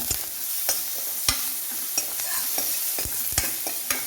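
Slit green chillies fry in hot oil in a pan for a beef and plantain curry, a steady close sizzle broken by several sharp stirring scrapes and clacks of a spoon, with no talking.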